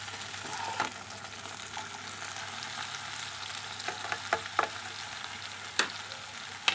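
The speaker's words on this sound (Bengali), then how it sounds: "শাকটা দিয়ে দিয়েছি এবার ভালো করে একটু নেড়ে ঢাকা দিয়ে দেবো" Bottle gourd greens sizzle and fry in a pan with potato and eggplant, a steady close hiss broken by several sharp scraping clicks of stirring.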